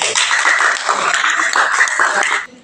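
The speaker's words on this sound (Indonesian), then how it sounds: "Tepuk tangan dulu." A classroom group claps continuously after a group presentation, a dense close patter of many hands that fades out at the end.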